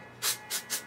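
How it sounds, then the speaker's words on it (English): Dry shampoo sprays into hair in three short, close hissing bursts, the first slightly longer, with quiet pauses between. "I'm gonna put a little dry shampoo in there to get some height"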